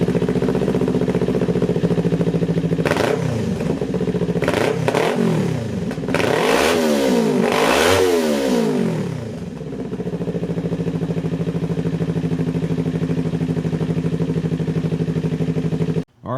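Kawasaki Ninja 400 fitted with an MMW exhaust starts up and idles, then several sharp throttle blips rev the motorcycle up and back down before it settles into a steady idle again, loud and close with no talking.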